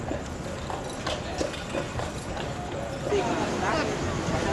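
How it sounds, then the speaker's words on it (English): Hooves of a horse clop in a loose rhythm under steady broadband noise and background talk. "There's our good horse."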